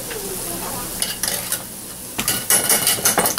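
Ice cream frying in very hot oil, a steady sizzle with clinks of pan and utensil and a few scraping stirs, close and fairly loud, no talking.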